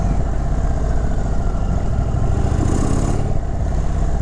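A 2023 Indian Chief Sport motorcycle on a test ride in sport mode, its V-twin engine rumbling loud and steady from close by, with wind noise over the top.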